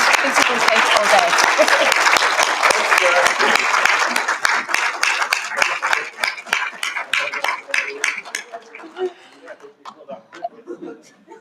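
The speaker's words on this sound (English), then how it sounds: "Let's give them a round of applause." An audience at the NIME 2025 town hall applauds award winners, dense clapping for about four seconds that thins into scattered claps and fades out by the end.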